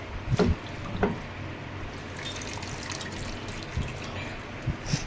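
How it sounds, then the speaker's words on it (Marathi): Pieces of stale flatbread are rinsed by hand in water, giving soft sloshing and trickling with a few sharper splashes, quiet and close in a home kitchen. "आता हे पाण्यामधून धुवून घेते"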